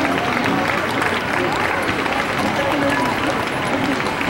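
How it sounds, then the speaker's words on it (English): Dense crowd cheering and applause at a rodeo parade fills the space with loud, continuous clapping and a steady roar of voices, without a break from start to finish. "young Peyton deserves a big cheer"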